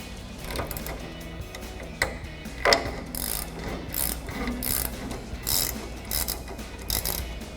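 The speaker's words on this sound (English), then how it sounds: "We're gonna take our top nut off with a 17mm ratcheting wrench." A 17mm ratcheting wrench clicks steadily while backing off the top nut of a front strut on a 2016-2023 Toyota Tacoma, close-up rapid ratchet pawl ticking in bursts with occasional clanks.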